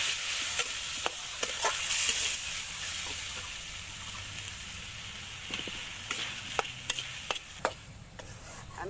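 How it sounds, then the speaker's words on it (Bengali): Spice paste and marinated chicken stir-fried in a pan for chicken kosha, a steady close sizzle broken by repeated scraping strokes of a spatula, with no one speaking. "এবার আমি ভালোভাবে মশলাটাকে কষিয়ে নেব।"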